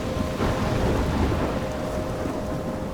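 Steady heavy rain with rolling thunder fills a stormy scene in the video game Life is Strange, a dense continuous wash with no speech.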